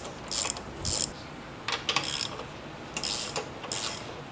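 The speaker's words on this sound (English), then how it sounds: "So I have them both on there aligned up, so we'll tighten them down." Ratchet tightening the rear suspension bolts on a 2026 Harley-Davidson Street Glide during an RWD suspension install, with several separate bursts of rapid metallic clicking, close and fairly loud, and no talking.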